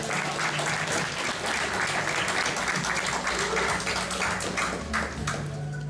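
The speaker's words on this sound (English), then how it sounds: "Let's get a round of applause for all that." Sustained audience applause for YouTubers at a Godzilla fan convention panel, a thick wash of clapping from a packed room that holds steady throughout.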